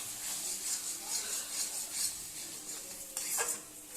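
Spices and peas for ghugni are stirred in a pan with a metal spatula, a continuous close scraping and rubbing over a faint sizzle, with a sharper scrape near the end and no one talking.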